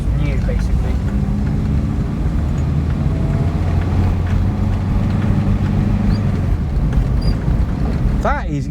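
A Triumph 1300 front-wheel-drive car drives along with a low, smooth engine hum under steady road and wind noise, heard from inside the cabin, with a voice speaking over it.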